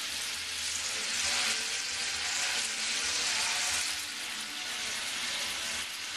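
Steady, loud frying sizzle of carrots in a pan, a continuous hiss with faint crackles throughout and no voices.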